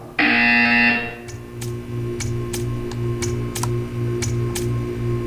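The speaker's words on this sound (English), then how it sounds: "You will hear a buzzer." A loud, steady electronic buzzer blares for about a second in the video game Portal 2, followed by a quiet hum with scattered soft clicks and ticks.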